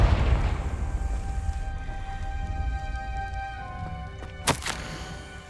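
A Confringo spell blast in Hogwarts Legacy lands as a heavy booming thud, followed by a ringing magical tail and one sharp crack near the end.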